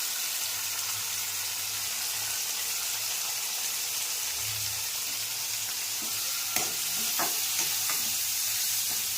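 Tomatoes and turmeric fry in a pan for fish curry with a steady soft sizzle. A few sharp clinks and stirring scrapes come near the end, and no one speaks.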